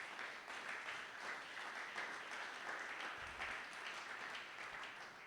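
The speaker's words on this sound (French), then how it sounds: "Est-ce que tu peux acclamer très fort pour la gloire de Jésus?" Church congregation clapping and cheering for Jesus during a Sunday praise and thanksgiving service, a steady dense wash of applause that holds at an even level throughout without pause.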